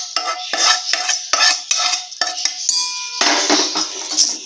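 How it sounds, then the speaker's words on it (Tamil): Hot caramel is poured into a metal pudding dish and swirled around, producing a run of close, bright clinks and scrapes of metal on metal, rhythmic at first and then a longer rattling swirl, with no voices. "எந்த பாத்திரத்தில் புட்டிங் செய்ய போகிறோமோ அந்த பாத்திரத்தில் இதை அப்படி சேர்த்துக்கோங்க"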